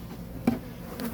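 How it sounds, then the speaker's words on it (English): Honey bees buzz around an opened Flow Hive during honey extraction, a faint steady droning hum with one brief louder knock partway through. "Put some bees out. Got some bees."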